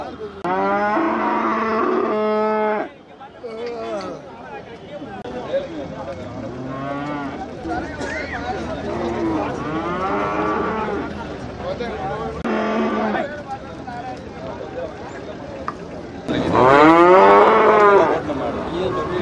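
Cattle moo at the Manapparai cattle market, with several loud, long, close bellows recurring over a low murmur of the market crowd and people talking.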